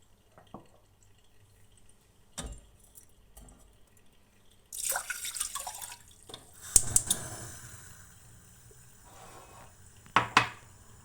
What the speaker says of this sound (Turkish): Bir çay bardağı pirinci süzgece alıp çeşmede yıkıyoruz ve tenceremize döküyoruz.